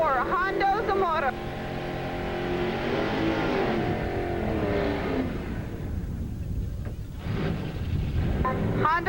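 A Chevrolet Nova drag race car at a 1986 Edinburg International drag strip in Texas runs loud with rising, revving engine tones over a public-address announcer talking throughout.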